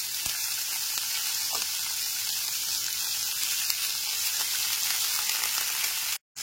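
Thinly sliced onion fries in hot oil in a pan over low-to-medium flame for masoor dal khichdi, a bright, steady sizzle running continuously before cutting off abruptly at the end.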